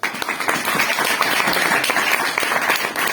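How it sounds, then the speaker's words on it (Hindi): A church congregation at a Hindi-language worship service claps together in dense, sustained applause, close and loud throughout. "अपने परमेश्वर के लिए हम तालियां बजाएं।"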